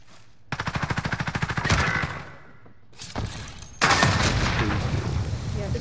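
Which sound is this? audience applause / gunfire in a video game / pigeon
gunfire in a video game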